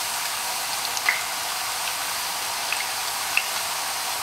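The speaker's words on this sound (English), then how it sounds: "I'm just going to separate these and let them fry up nicely." Plantain slices frying in oil for chips, a soft, steady hiss with a few tiny pops, close and even throughout, no talk.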